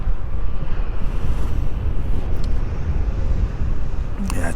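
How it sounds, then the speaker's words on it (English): Strong wind buffets the microphone outdoors on a cold day beside a stadium under expansion, a steady loud low roar throughout with a brief crackle near the end. "Yeah, it's very windy, very cold."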